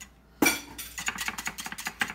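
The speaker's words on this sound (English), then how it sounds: "I'm going to take this wire whisk" A wire whisk beats eggs in a bowl for French toast. After one sharp knock, a quick run of light metallic clinks and scrapes follows, close and fairly quiet, with no talking.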